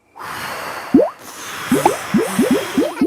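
In a Peppa Pig Halloween cartoon, bubbles are blown with a run of about six wet, bloopy pops that rise in pitch. They come in a bouncy, quickening sequence over a soft whooshing background, with no speech.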